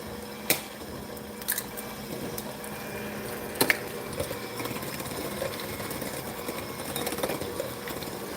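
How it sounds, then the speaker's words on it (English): A kitchen mixer labors through thick pumpkin-apple blondie batter with a steady, strained motor whir. Sharp knocks and rattles break in a few times as the machine acts up, close and alone. "See, my mixer was acting up. It's letting me know it was not happy with me."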